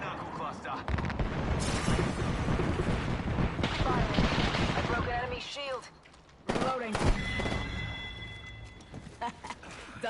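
A knuckle cluster grenade in Apex Legends goes off amid heavy, continuous gunfire and booming explosions, loud and dense, with voices talking over the battle noise.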